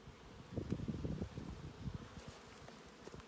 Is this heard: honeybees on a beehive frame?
yes